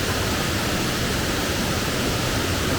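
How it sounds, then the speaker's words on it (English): Raven Cliff Falls in South Carolina gives off a constant, dense rushing roar of falling water, steady and unbroken with no voices. "It's just you, the waterfall, the sound of just kind of, you hear it in the background."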